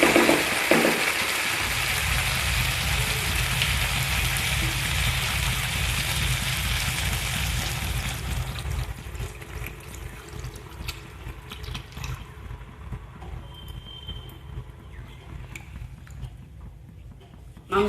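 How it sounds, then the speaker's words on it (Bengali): Water is poured into chicken kosha cooking in a pan, a loud, steady rushing splash for about eight seconds that then gives way to a softer, bubbling simmer. "এবারে আমি জল দিয়ে দেবো।"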